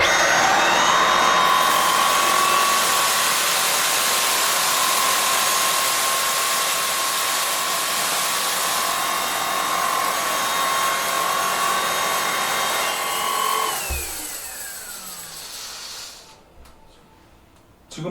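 A cordless stick vacuum, either a Dyson V8 or a Dibea D18, runs steadily with a loud whine and broad hiss while picking up oats from the floor, then cuts off near the end.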